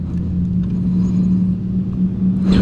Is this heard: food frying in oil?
no